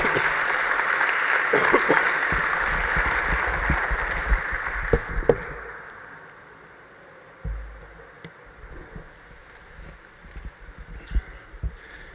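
A church congregation claps for the Lord during a sermon, steady applause for about five seconds that fades into quiet room noise with scattered faint sounds.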